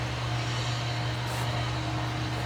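A steady, low mechanical drone of a combine harvester working in a nearby field runs continuously in the background, even and unbroken, with no one talking.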